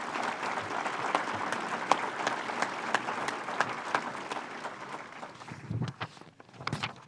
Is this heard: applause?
yes